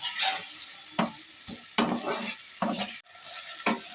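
Chopped onion and tomato stir-frying in a pan for a duck egg curry, with repeated scraping stirs over a steady sizzle, close and fairly loud, each stroke coming roughly every half second.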